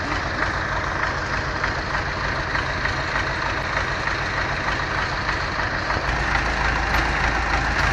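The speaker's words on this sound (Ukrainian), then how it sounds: "Давайте з Юрою на трактор" A steady, rumbling tractor engine idles continuously, with a low throbbing hum and constant mechanical noise throughout, no voices present.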